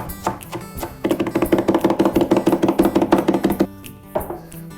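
A knife rapidly chops onion on a cutting board for steakhouse butter, a fast burst of about twenty close, crisp taps preceded and followed by a few scattered knocks, with no talk.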